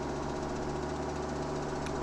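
A tractor engine running at full throttle in Farming Simulator 2017, a steady droning hum with constant vibration, close and continuous.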